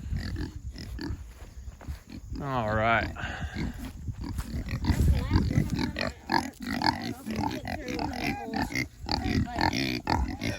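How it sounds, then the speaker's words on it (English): Kunekune pigs being moved as a herd, grunting and squealing in rapid bursts close by, with shuffling and clattering, while a person speaks briefly among the animal noises. "release this herd, bud"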